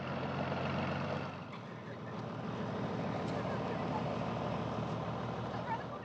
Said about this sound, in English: on cold fall mornings, harvesting begins before dawn by tractor light.